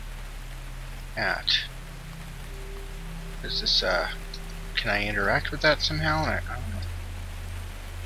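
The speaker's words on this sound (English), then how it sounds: "I hear rain." Steady rainfall hiss plays in the puzzle game Antichamber, a soft continuous wash beneath a low hum, while someone talks over it in short bursts.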